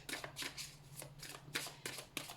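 Sacred Traveler oracle cards are shuffled by hand in short, crisp riffling bursts that repeat every half second or so, close by and fairly soft, with no talk.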